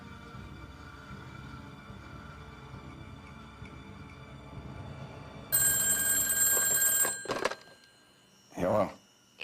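A telephone rings in a tense drama scene, a loud bright ring starting partway through, cutting off, then one shorter burst after a pause, over a low murmur of background sound.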